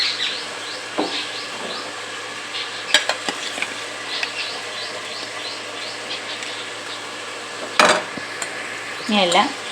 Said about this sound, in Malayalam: നമുക്ക് അതിനകത്തോട്ട് അരി ഇട്ട് കൊടുക്കണം